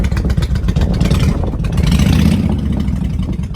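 Honda Shadow 1100 motorcycle engine running loud and close, a continuous rough, throbbing V-twin rumble with uneven pulses and revs, no talk over it.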